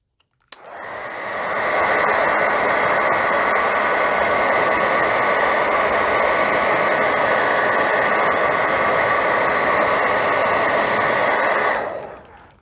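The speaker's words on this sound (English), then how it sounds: "Let's hit Homer with a hairdryer." A hairdryer blows hot air onto an action figure, switching on with a click and rising into a loud, steady whoosh that holds unbroken for about ten seconds before cutting off, with no voices.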